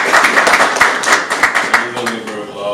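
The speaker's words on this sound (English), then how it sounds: "Please, a round of applause." A lecture audience claps in a quick round of applause, sharp individual hand claps close and loud at first, then tapering off near the end.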